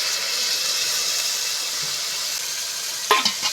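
Water poured into red lentils cooking in a hot pan for a jute-leaf dal dish, giving a loud steady steaming hiss close up, then a few sharp spattering pops near the end.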